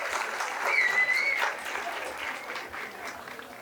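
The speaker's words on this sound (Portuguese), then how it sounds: "Com palmas." Audience applause at a political discussion panel during a winter festival, a steady wash of clapping from a crowd that swells briefly and then holds at a constant level throughout.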